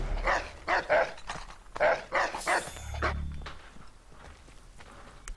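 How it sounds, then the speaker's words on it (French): An enemy dog in Assassin's Creed 3 barks repeatedly in short sharp bursts, fairly close, then a thud and quieter rustling as the barking stops. "Ah c'est un chien ennemi, du coup je peux le tuer?"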